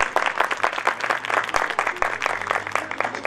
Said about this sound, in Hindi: जरा अपने तालियों का इस्तेमाल करें ना